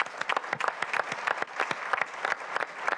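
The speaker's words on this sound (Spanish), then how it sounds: "vale la pena honrarnos con un fuerte aplauso por esa generación" Audience applause at a panel event, dense clapping from many hands close by, even and sustained for a few seconds with no voices over it.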